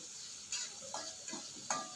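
Garlic, chilli and grated coconut are stirred in a pan for a Kerala-style mussel fry. A faint, low sizzle runs throughout, with a few light scraping strokes of the spoon close by.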